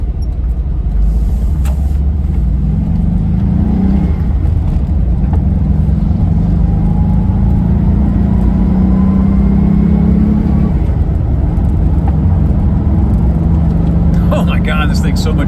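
A VW Vanagon with a rebuilt transaxle accelerates along a road, its engine a steady low drone and road rumble close inside the cabin throughout, with people talking over it.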